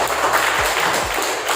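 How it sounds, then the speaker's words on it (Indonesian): Audience clapping for participants at a village official recruitment event, a steady moderate patter of hands with a couple of low thumps mixed in. "Mohon tepuk tangan yang meriah untuk para"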